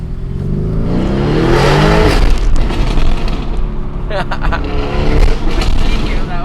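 A modified widebody Lamborghini Urus engine revs hard and accelerates, heard from inside the cabin, rising in pitch through gear changes with a loud, roaring, raspy tone.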